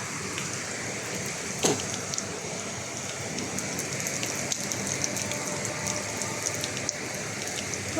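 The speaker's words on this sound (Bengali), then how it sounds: "দেখেন কিভাবে বৃষ্টি কিভাবে তুফান শুরু হয়েছে" Heavy rain pours during a storm in Abu Dhabi as a steady, dense hiss of drops on surfaces, with occasional sharper nearby drips and taps rising above the constant wash.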